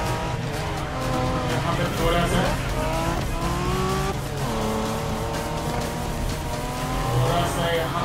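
A race car in The Crew Motorfest driving game revs hard through rising gear changes with tires squealing on turns, the engine loud and continuous while someone talks excitedly over it.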